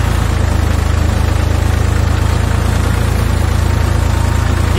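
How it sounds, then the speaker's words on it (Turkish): A tractor used to haul eggs and feed up a hill runs close by, its engine a steady low chugging throb that holds even and unbroken throughout. "Onları da traktörle taşıyoruz."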